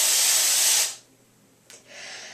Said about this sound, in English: Dollar store silly string, everyone.